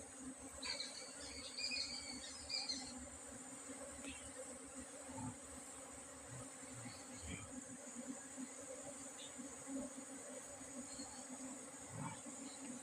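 A swarm of honeybees hanging from a tree branch moves into a wooden box, making a steady, faint, layered buzz with occasional closer drones passing by and no speech.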